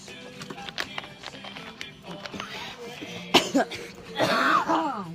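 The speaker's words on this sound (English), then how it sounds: "She's coughing." A woman coughs in a few harsh, rough bursts near the end, following quieter rustling and some faint voice sounds.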